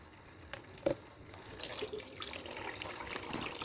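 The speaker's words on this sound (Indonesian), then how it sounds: "di sini kita bisa lihat air mengalir" Water runs steadily out of a container during a classroom flow-rate measurement, a soft continuous trickle and splash, fairly faint and close, with no talking.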